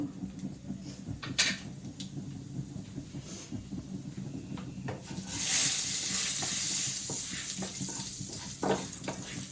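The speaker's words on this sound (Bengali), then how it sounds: "এই যে মাসকলাইয়ের ডাল দিলাম একটু" Urad dal frying in a pan with oil for a vegetarian gourd dish, sizzling steadily while a spoon scrapes and stirs in irregular knocks, the sizzle swelling louder midway.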